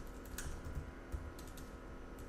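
Keystrokes on a computer keyboard entering a command, a short run of quiet, irregular clicks close by over a low background hum, no voice.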